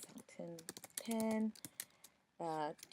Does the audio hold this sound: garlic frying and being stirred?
no